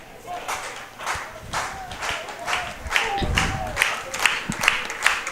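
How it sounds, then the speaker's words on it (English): Spectators at a college baseball game, Piedmont hosting LaGrange, clap in a steady rhythmic pattern, a sharp burst of hands every half second or so, moderately loud with a murmur of voices under it. "The claps continue."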